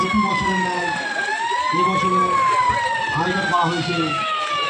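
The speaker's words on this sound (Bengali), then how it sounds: "মনে হচ্ছে অ্যাম্বুলেন্স ডাকছে" An ambulance siren wails at a Charak fair, its tone sliding slowly up and down and staying loud and steady over a murmur of voices and crowd noise.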